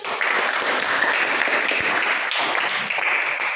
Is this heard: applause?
yes